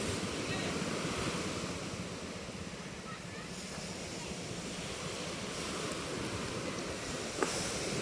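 Sea surf washes steadily under gusty wind on a fairly calm sea during the southwest monsoon, a continuous broad rush with a brief bump near the end.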